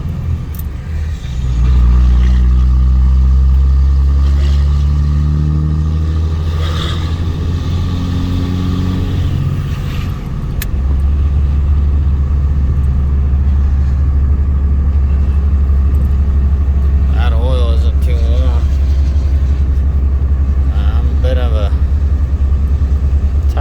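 A 2003 Ram 2500 pickup with a 5.9 Cummins diesel and NV5600 six-speed manual pulls away from inside the cab, its deep engine drone rising through the gears, then settling into a steady low rumble, with a few faint clicks and squeaks late on.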